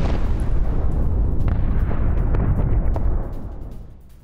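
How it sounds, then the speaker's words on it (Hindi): Heavy bombing explosions in Lebanon roll out as a loud, sustained boom and rumble in news footage, with crackling bursts on top. The roar holds steady for about three seconds, then fades away. "लेबनान में IDF की बमबारी में फिर बड़ी तबाही हुई है।"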